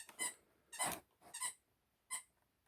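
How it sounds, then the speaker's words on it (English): Four separate squeaks from a dog chewing a squeaker toy, each short and shrill with gaps between, faint and nearby against near silence. "we got a dog squeaking a toy in the background"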